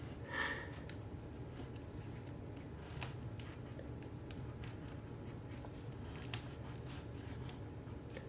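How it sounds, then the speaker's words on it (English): Pen scratching across paper as the word stitch is written slowly by hand with the left hand, faint and close, with a few brief taps and rustles. "I want to write the word stitch with my left hand"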